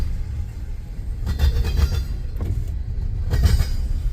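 Two CSX freight trains passing each other in snowy, cold weather east of North Baltimore, Ohio, with a heavy low rumble and rhythmic clatter of wheels over rail joints, fairly close and loud throughout.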